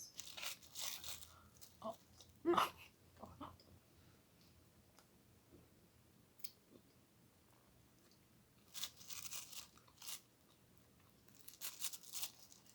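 Someone chews and bites a chewy minty donut with white chocolate at close range, giving soft crunchy, sticky bursts in clusters between quiet pauses, and a voice is briefly heard.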